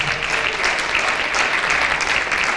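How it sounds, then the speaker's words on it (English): Audience applause at a criminal justice summit forum for gubernatorial candidates, with a steady, dense clapping crowd filling the hall throughout, no voices over it. "Let's give her a round of applause."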